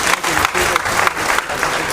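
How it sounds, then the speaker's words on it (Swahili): Mourners at a funeral gathering clap together in a loud, dense burst of applause that keeps going without a break. "Makofi"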